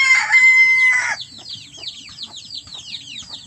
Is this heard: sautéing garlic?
no